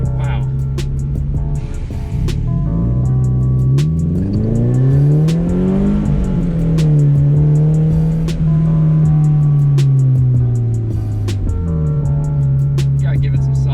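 A Toyota FRS engine on Tein coilovers revs up and down in long, loud, rising and falling sweeps, close and continuous through the clip, with brief voices in the background.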